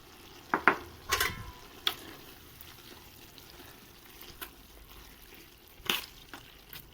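Green beans cooking in a pot, with a spoon stirring in a few scattered bursts of scraping and clatter over a quiet, faint simmer.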